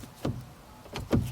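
A car door opens close by, giving two faint, dull mechanical clunks a little under a second apart over quiet background hum, with no talking.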